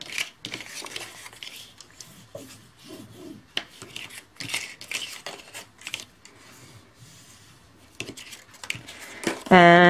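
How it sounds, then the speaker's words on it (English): Dry rubbing and scraping of a burnishing tool drawn along score lines in paper for a folio album, in a series of short strokes of varying loudness, close up. "Burnish all your score lines."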